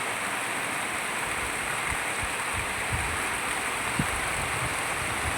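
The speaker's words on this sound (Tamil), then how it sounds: "பார்த்திங்கள்ல எப்படி மழை பெஞ்சிக்கிட்டு இருக்குது" Steady heavy rain pours onto tin-roofed houses, a dense continuous hiss with scattered duller drops and taps, loud and unbroken with no voices.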